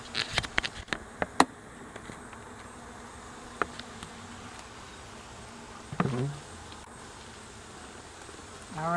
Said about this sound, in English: hopefully you can hear the bees.